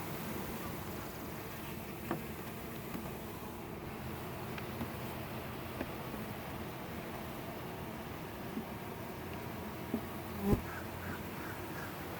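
Steady insect buzzing fills the air, a dense drone of many honeybees close by during hive installation, with a few faint knocks and clicks of frames scattered throughout.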